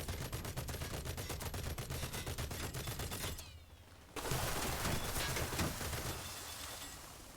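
Naval battle in War Thunder: rapid, continuous rattling bursts of shipboard gunfire, loud and close, broken by a short lull before heavier fire resumes and rolls on.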